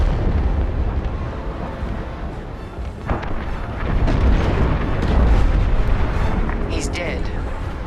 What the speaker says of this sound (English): The frigate is about to explode!